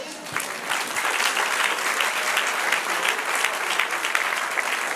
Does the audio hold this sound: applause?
yes